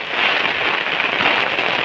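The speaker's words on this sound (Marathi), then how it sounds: "पाऊस बघा कसला जोरात आला आहे" Heavy monsoon rain in Konkan pours steadily, a dense, loud hiss of drops beating on surfaces with no break throughout.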